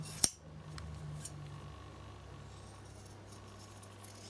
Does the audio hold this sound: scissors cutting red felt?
yes